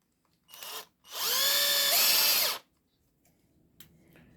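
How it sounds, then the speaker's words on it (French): A cordless electric screwdriver drives a screw into a wooden handle scale of a Laguiole knife, a short whir and then a longer rising motor whine, close and loud with quiet gaps. "Une visseuse."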